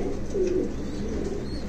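A pigeon with feathered feet, one of a rare breed kept in Khulna, Bangladesh, gives a brief low coo amid soft background noise.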